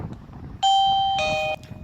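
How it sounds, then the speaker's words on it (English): A WiFi HD video doorbell's chime unit indoors rings out a clear two-tone ding-dong, the second tone slightly higher, loud and close over a quiet room. "Chime worked in 1 second and the ring came in 1 second as well."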